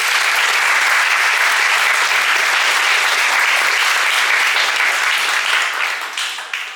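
A church congregation bursts into loud, sustained applause that fills the room steadily and then tapers slightly at the end.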